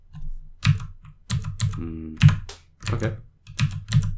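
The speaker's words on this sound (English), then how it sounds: "Just using the keys of my keyboard right now, as you can probably hear." Computer keyboard keys clack in quick, uneven bursts close by, with a brief spoken word slipping in between the keystrokes.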